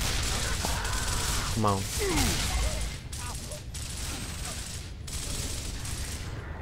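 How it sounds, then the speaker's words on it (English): Pistol fire in Gears of War on PC, shots popping amid a constant loud battle din with mechanical clicks and rattles, while someone speaks briefly. "I'm gonna try and pistol this dude."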